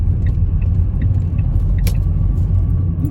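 A car's interior carries a steady low engine and road rumble as it goes round a roundabout for a U-turn, loud and continuous, with a faint tick partway through.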